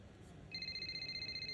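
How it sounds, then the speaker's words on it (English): An incoming phone call in the F1 25 racing game rings as a steady, pulsing electronic tone that starts partway through over a low game background, fairly quiet. "Oh, here comes a phone call."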